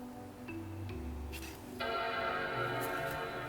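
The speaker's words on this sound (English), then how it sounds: "Alright, we got a chime." Apple MacBook Pro startup chime, a sustained tonal bell-like sound from a laptop being recycled at an e-waste center, with a steady hum underneath and a brighter tone change partway through.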